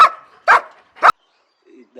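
A working-line German shepherd barks three times in quick succession, loud and close, followed by a couple of faint softer sounds.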